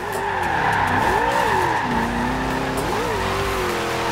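A car drifting in Forza Horizon 2, its tires squealing continuously while the engine note rises and dips through the slide, loud and sustained without pause.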